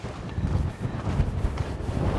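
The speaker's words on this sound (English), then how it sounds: "It is so windy." Strong wind buffeting the microphone outdoors on a wild river track, a continuous heavy low roar with gusts and no voices.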